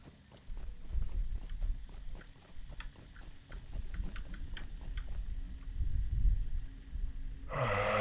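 A horse mount trotting in the online game Lord of the Rings Online, with steady rhythmic hoofbeats over low breathy snorting and rumbling, then a brighter burst of sound at the end.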